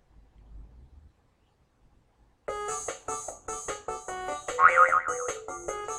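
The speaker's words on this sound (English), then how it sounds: "Let's choose the cartoon boing." Cartoon boing sound effect from a game-building tool's sound library: a bouncy, springy twang with wobbling pitch lasting a few seconds, preceded by a faint low rumble and a brief silence, played alone.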